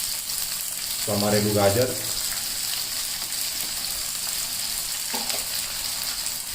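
Chopped onion, peas and carrot frying in a pan for vegetable poha, a steady soft sizzle running throughout beneath a brief spoken phrase near the start.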